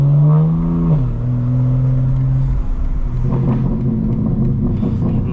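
A 2025 BMW M4 Competition xDrive with its exhaust burble mode on, revving and rumbling loudly and continuously from inside the car, with engine tone dropping and then crackly pops and bursts rising toward the end.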